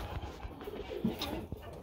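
Birmingham Roller pigeons in an outdoor cage cooing softly and steadily, low and close, with faint background noise and no clear talk.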